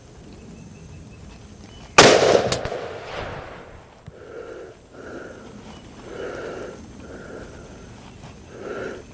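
One sharp, loud rifle report from a Ruger Model 77 MKII chambered in .264 Win Mag, fired outdoors at a target, followed by a quick echo and then quiet, faint background sounds.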